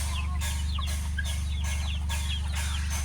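Desi hens cluck and chatter repeatedly inside a farm coop, their calls coming in bursts over a steady low droning fan hum.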